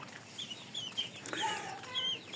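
Young chicks peep and cluck in quick, high chirps, scattered across a couple of seconds over a soft background hiss, close by and fairly faint.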